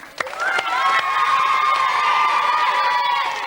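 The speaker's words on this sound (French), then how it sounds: "je crois qu'on peut les applaudir" A studio audience of children on a 1991 French TV show bursts into loud, sustained cheering and shrieking after a few sharp claps, a dense wall of young voices.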